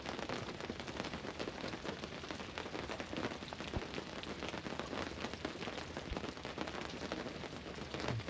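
Continuous rain pours at Stone Mountain, a dense even patter of drops hitting surfaces close by, with no speech over it.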